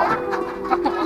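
Several hungry, unfed chickens cluck and murmur in short overlapping calls, fairly close, with a steady low hum running underneath.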